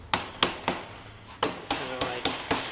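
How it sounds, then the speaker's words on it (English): A small hammer strikes the wire and frame of a rabbit hutch being built, about nine sharp, evenly spaced taps ringing close by. "Grab my hammer."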